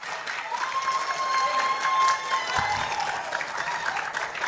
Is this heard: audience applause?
yes